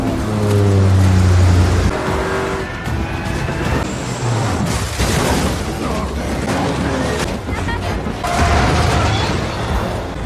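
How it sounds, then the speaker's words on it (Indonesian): Loud, dense film soundtrack in which a GTR sports car's engine roars and revs as it leaps out of a plane, layered with booming impacts, whooshes and music throughout. "Dengan epiknya Dom melompat keluar pesawat bersama mobil GTR kesayangannya"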